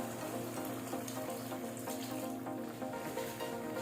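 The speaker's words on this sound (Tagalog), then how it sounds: "Magdagdag tayo ng 2 cups of water." Water is poured into a cooking pot holding a vegetable stew in progress, a soft, continuous splashing rush that stays low and steady throughout.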